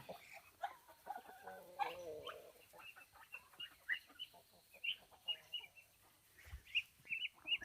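Ducklings and chicks peep and cheep repeatedly in quick, high chirps, with a few clucks and a person talking quietly in the background.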